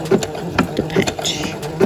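A sewing machine stitching a patch in zigzag mode, its rapid rhythmic mechanical clatter running close and steady for the whole stretch.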